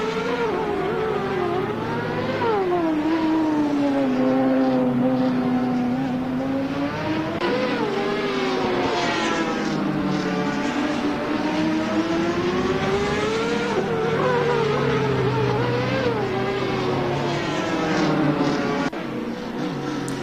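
A McLaren's engine in the racing game Assetto Corsa drones steadily and loudly for the whole stretch. Its pitch rises and falls repeatedly through revs and gear changes, with no voices.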